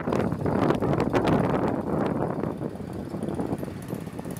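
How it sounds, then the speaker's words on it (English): Steady, rumbling wind buffeting the microphone, loud and continuous with uneven gusty surges and no voices. "I'm sure you are going to hear a ton of wind."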